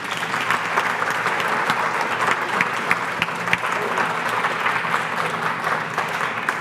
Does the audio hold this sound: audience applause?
yes